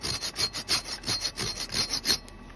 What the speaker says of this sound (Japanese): ノコギリでこうやって切ってあげて